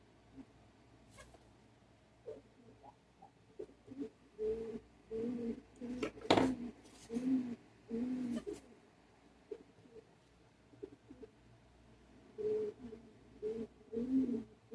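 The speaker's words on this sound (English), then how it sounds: "we have Inspector Pigeon just came over, ladies and gentlemen, on my shoulder" A pigeon perched on someone's shoulder coos close by in soft, repeated low bursts, clustered in several groups with quiet gaps between them.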